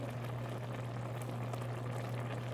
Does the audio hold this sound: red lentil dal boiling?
yes